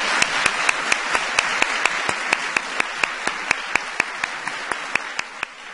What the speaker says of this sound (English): Let's give one more round of applause to today's honorees.